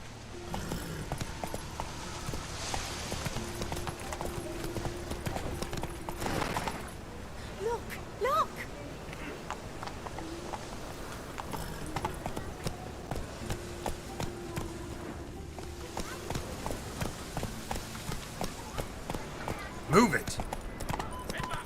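Horse hooves clip-clopping at a run in Witcher 3, a steady rhythmic patter heard alongside game music and voices, with a brief louder thump near the end.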